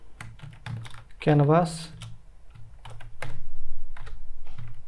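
Rapid clicking of a computer keyboard during React and Three.js coding, a run of light taps around a brief spoken word and more keystrokes toward the end.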